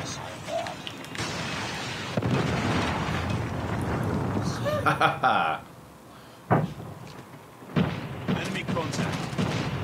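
Grenade blasts and gunfire in a VR Call of Duty match, sharp bursts and booms close by, mixed with a player's voice talking and in-game radio chatter.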